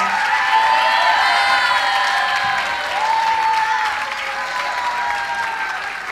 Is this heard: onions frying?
no